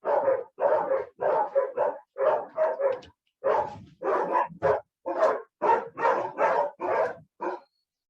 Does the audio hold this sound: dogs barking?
yes